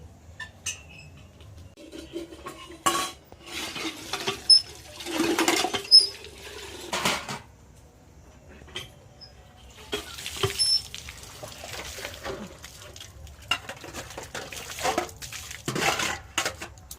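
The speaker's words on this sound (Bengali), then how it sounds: "কয়েকটা খাওয়ার বাসন হাঁড়ি কড়াইটা খালি তো মাজা আছে ওগুলো একটু জল দিয়ে ধুবো" Pots, pans and plates being rinsed and scrubbed with water in a home kitchen: intermittent clinks, scrapes and splashing bursts, fairly close and moderate in level, with quiet gaps between, and no talk.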